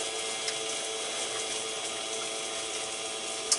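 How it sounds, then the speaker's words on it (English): A boat's bilge pump moving only water with no air, a steady, even mechanical whir and wash that holds constant throughout, close and moderately loud, with no voices. "So now this is the sound of just pumping only water with no bubbles"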